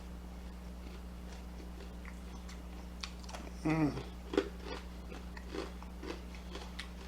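A crunchy fried chicken wing bitten close to the microphone at a Hong Kong eating session, giving one sharp crunch followed by quieter chewing and a murmured sound of approval.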